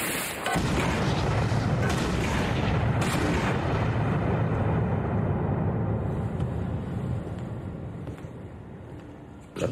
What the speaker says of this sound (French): il ne résistera pas au feu de nos canons.